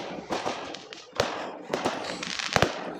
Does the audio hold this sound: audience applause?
no